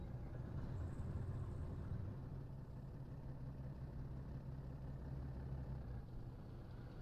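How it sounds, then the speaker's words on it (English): Heavy, throaty thrum of a BMP armored vehicle engine in a combat video game, a continuous low idling rumble holding steady and fairly loud throughout. "the heavier, the throatier kind of thrum of the BMP engine is just that much more audible"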